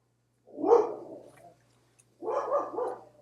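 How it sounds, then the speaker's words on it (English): Dogs barking in a neighborhood: two separate deep, rough barks about a second and a half apart, fairly close and moderately loud, with near silence between them. "my dogs are raising havoc in the neighborhood"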